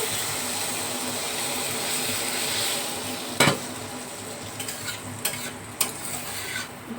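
Eggs and potatoes fry in a pan as water goes in, giving a steady sizzle broken by a few sharp scraping knocks of a utensil stirring close by.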